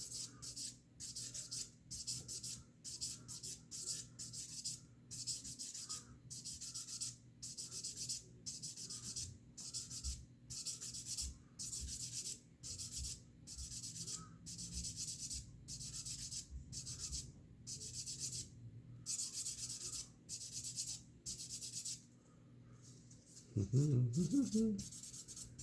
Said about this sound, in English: you alternate between the sponge, kind of finer grit sanding paper